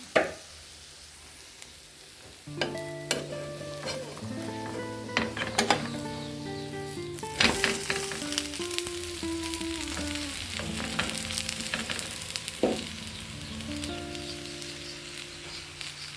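Besan dosa batter sizzling and frying in a hot pan, a steady crackling hiss throughout with occasional scraping and clinking of a spatula or utensil, fairly close and clear with no talk.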